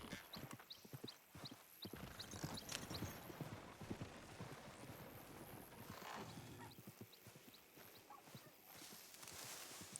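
Horse hooves clip-clop steadily in the Red Dead Redemption 2 WildRP game, a brisk rhythmic trot mixed with rattling tack and game ambience, with a brief whinny partway through.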